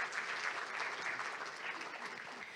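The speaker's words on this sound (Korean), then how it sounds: "다시 한번 박수를 부탁드리겠습니다" Steady applause from an audience fills a landscape architecture day ceremony, a dense continuous patter of many hands clapping at moderate volume with no speech over it.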